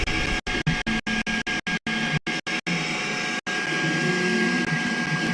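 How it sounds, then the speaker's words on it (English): A 3D printer prints a drone prop guard for a Yuneec Typhoon H, giving a steady whirring, buzzing mechanical drone broken by frequent short stepper-motor pauses and stutters, close and fairly loud, with no talk. "It's actually printing one off now."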